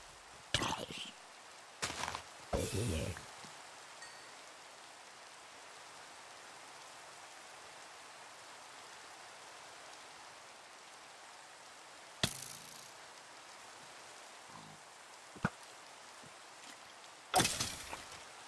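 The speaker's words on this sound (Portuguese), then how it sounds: "Tá chovendo." Steady rain falls in a video game, a soft continuous hiss that runs throughout, broken by a few sharp, loud game thuds and impacts.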